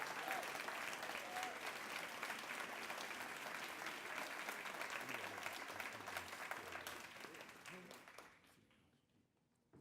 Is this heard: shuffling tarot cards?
no